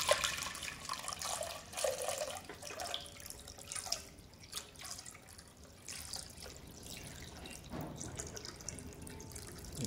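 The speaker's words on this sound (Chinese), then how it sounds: "然后倒水倒到大于壶身的高度" Water is poured into a pot holding a separated clay teapot and lid, a soft, close splashing and trickling that rises and falls in uneven gushes, with drips and light clinks, and no voices.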